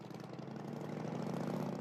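A motorcycle engine from the 1977 film L'épreuve de force, ridden through the southern United States, gives a steady low idling drone that swells slightly over a couple of seconds, heard faintly and alone.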